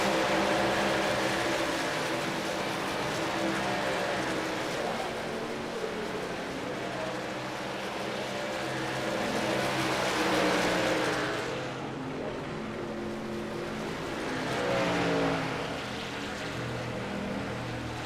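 Race trucks on a track in an EFRL truck series race, one on worn old tires, their engines roaring continuously and swelling twice as they pass by at close range.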